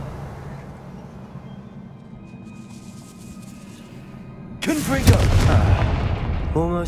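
A Confringo blasting spell is cast in Hogwarts Legacy: a sudden loud booming blast with a rumbling tail that follows a quiet ambient stretch.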